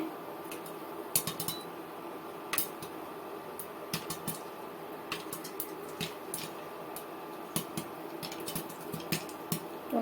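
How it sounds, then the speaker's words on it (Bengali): Popcorn pops in a covered pan on a low stove flame, with irregular sharp pops and ticks scattered over a steady background hiss, close and moderately loud, with no talking. "পপকর্নটা সুন্দরভাবে ফোটা শুরু হয়ে গিয়েছে"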